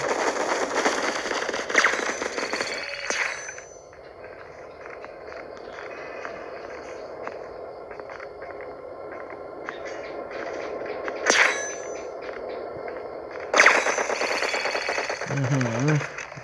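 Gunfire in the mobile shooter game Bullet Echo comes as dense, crackling bursts of rapid shots, with louder volleys near the start and toward the end, while someone talks over much of it.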